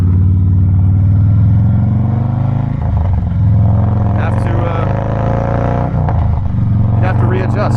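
A 2017 Harley-Davidson Softail Breakout motorcycle rumbles steadily as it is ridden, its low engine note loud and close throughout, dipping briefly as it eases through a tight turn, with someone talking over it.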